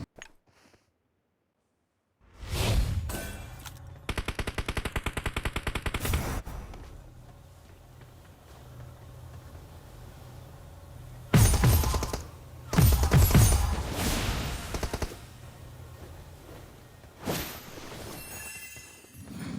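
Gunfire in a shooter video game, coming from two directions: a loud burst of rapid shots, then quieter stretches broken by further sharp volleys and single cracks, close and intermittent after a short silence.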